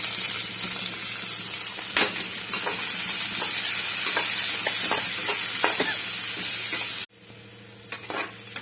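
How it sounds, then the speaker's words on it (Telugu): Onions sizzle and fry in oil in a pan for egg biryani, a continuous close hiss broken by occasional stirring scrapes, which cut off sharply near the end, leaving quieter sizzling. "ఆనియన్స్ వేసుకోవాలి."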